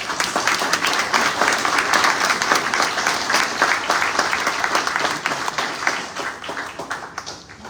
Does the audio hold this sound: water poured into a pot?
no